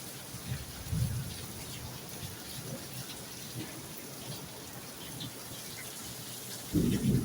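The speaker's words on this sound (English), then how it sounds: "Like, you know, kind of a vibrating thunder." Rain falls steadily during a Florida tornado thunderstorm, a soft, constant hiss with low rumbles of thunder rolling in briefly near the start and again louder at the end.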